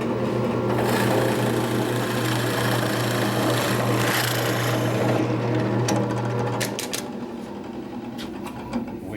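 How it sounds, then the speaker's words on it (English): A drill press bores a hole through a piece of wood, a loud steady motor whine with grinding cut noise for several seconds, then tapering off as the spindle winds down and faint clicks follow. "go ahead and drill it like this"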